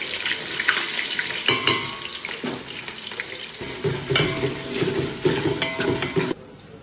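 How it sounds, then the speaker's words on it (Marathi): Chopped onion frying in hot oil in a pan, a continuous close sizzle and crackle with occasional stirring scrapes and clatter, ending abruptly, no speech. "एकदम चॉपिंग कांदा तेलामध्ये टाकलेला, थोडासा तो भाजतोय."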